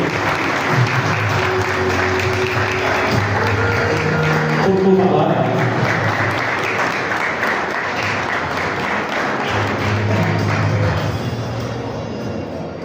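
Sustained audience applause fills a college annual function hall as guests are welcomed on stage, a dense steady clapping that runs throughout while a voice speaks over it near the end.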